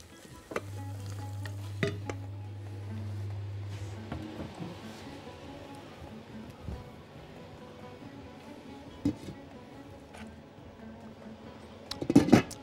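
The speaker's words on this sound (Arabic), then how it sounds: "البصلة بدأت تحمر" Onion frying in a pan while a chef cooks mackerel and seafood dishes: a soft, steady sizzle with occasional stirring clatters and a low hum early on, close and without speech.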